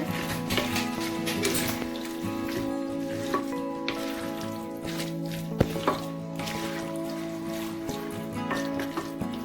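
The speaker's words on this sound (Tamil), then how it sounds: "தேவையான அளவு உப்பு போட்டு விட்டுட்டு நல்லா மிக்ஸ் பண்ணிக்கோங்க" Wet, squelchy mixing of raw prawns with masala and salt, stirred by hand in a Kongunadu-style pepper fry, with steady soft squishing and dripping over a constant background tone.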